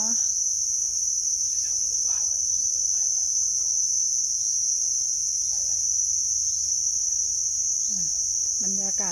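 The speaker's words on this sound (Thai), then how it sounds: "ได้ยินเสียงพวก สัตว์เล็กๆนะคะที่ร้องอยู่ก็น่าจะเป็นพวกจิ้งหรีดนะคะ จิ้งหรีดจักจั่น" Steady, shrill chirring of crickets and cicadas fills the air without a break at a shady agricultural garden in Chumphon, Thailand, and a voice briefly speaks near the end.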